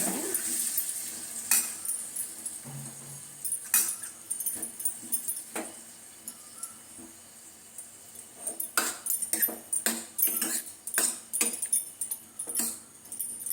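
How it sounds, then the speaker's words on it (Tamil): Soya chunks masala is stirred and sautéed in a pan. A spoon gives scattered light clinks and scrapes against the metal, close by and quiet, growing busier toward the end. "இதில் போடுறேன். நல்லா வதக்கி விடுங்க."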